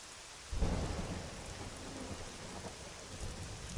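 A sudden rumble of thunder breaks over steady rain in the Arma 3 video game on the Altis map, rolling on as a low, sustained roar with no talk.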